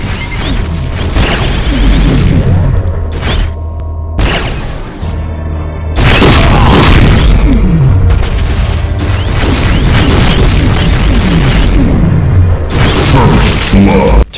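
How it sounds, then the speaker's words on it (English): Heavy railgun barrages exploding in a Doom mod fighting Cyberdemons, loud continuous booming blasts and crashes layered over each other. They pause briefly, then resume with relentless chaotic impacts. "twice the heavy railgun barrages"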